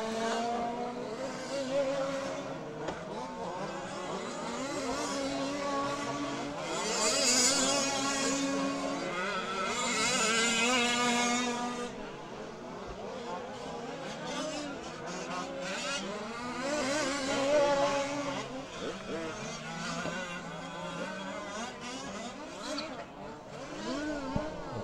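Large-scale off-road RC cars racing at a national titles event, a continuous buzzing whine of small engines rising and falling as they pass, with the crowded drone steady throughout.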